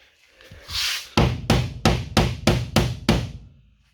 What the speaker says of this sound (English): let's hit this thing with a hammer real quick